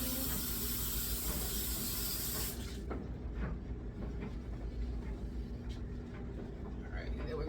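Water runs hard from a tap over a barbecue spatula, a loud broad hiss that cuts out partway, leaving quieter splashing and clatter beneath a voice speaking.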